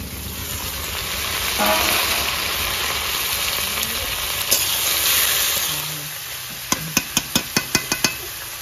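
Chicken meat goes into a pan of fried onions in a village kitchen, making a loud continuous sizzle, followed by a quick run of sharp metallic taps near the end.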